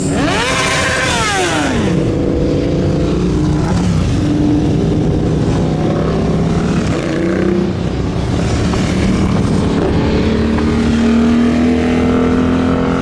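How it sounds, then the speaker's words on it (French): Engines of Sunday bikers' motorcycles roaring past on a road near a volcano on Réunion, loud and close, several machines revving and sweeping by one after another with rising and falling pitch. "On a les motards, les sorties du dimanche."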